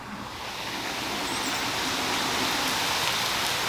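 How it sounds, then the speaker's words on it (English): Heavy rain pours down in a steady, dense hiss that holds constant and loud, a thick wash of water with no pauses and no voices. "it's really raining. Like it's downpouring."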